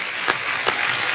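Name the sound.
applause from studio audience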